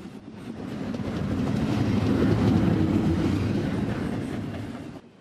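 CSX freight train Q003 on the River Line rolls out of a siding, a loud, steady rumble of wheels and cars with a rhythmic clatter that builds, holds through the pass and cuts off abruptly at the end.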